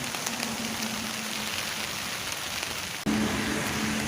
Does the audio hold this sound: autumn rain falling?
yes